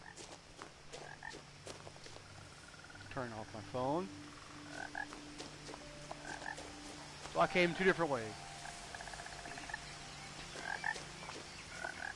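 Frogs croak repeatedly in the video game What Remained of Edith Finch, with several rising calls against an outdoor ambience as a person talks over them.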